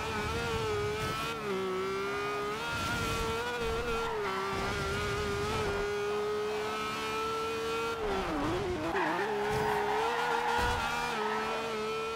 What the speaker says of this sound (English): That was a nice drift right there